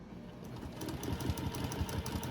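A sewing machine stitching during free-motion thread painting on a horse collage, a fast steady mechanical whir with rapid needle pulses, close and continuous.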